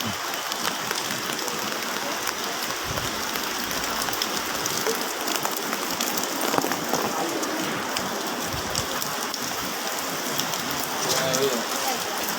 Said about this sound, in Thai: ฝนตกทั้งคืนเลย